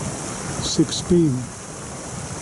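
Light drizzle falls outdoors at the Nairobi Convention Center in Kenya under an overcast sky, a soft, steady hiss running throughout, with a brief stretch of speech near the middle.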